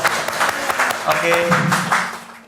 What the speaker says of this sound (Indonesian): Tepuk tangan dulu lah biar